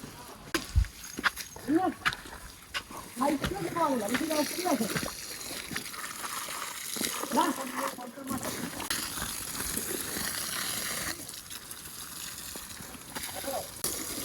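Water from a pipe splashes against the wall of a house as it is watered on a hot sunny afternoon, in intermittent sloshing bursts with people talking nearby.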